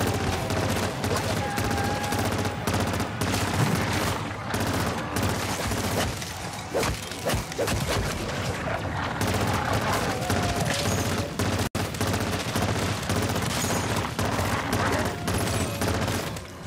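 Rapid hip-fire gunfire in Call of Duty MW3 Zombies, with dense bursts and bangs running almost continuously and a player's voice faintly under the shooting.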